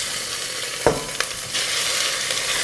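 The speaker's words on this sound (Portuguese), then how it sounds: "E agora eu já vou colocar o frango." Ground chicken added to a pan of hot olive oil and garlic, with a sharp clatter, then a steady loud sizzle close by, no talking.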